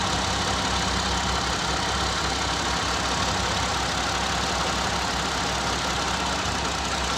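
Close, continuous idle of a Ford Escape engine with fuel injector 4 disabled, a steady broadband rumble with no talking.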